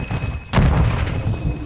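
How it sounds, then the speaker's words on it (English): A charge detonates in Call of Duty: Modern Warfare 2 during a Search and Destroy match, a sudden loud boom with a low rumbling tail that lingers over the game's background noise. "set the charge on the target and detonate it"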